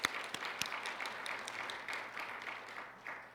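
Audience applause at an academic teaching program event, a soft, fairly distant patter of many hands over about three seconds with a few sharper individual claps standing out.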